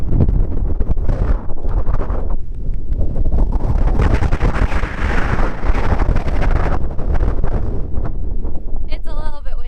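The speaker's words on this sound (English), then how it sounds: "It's a little bit windy." Strong wind on the Pacific Crest Trail between Mt. Laguna and Warner Springs roars and buffets the microphone in heavy gusts, loud and continuous throughout.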